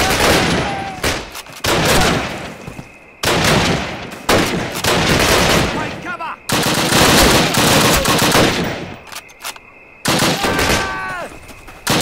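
Fast machine-gun bursts and rifle shots from the WWII shooter Call of Duty: United Offensive, during a British mission at a train bridge. Loud, repeated volleys break off briefly and then resume, with shouted voices mixed in.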